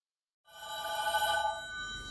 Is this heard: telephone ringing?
yes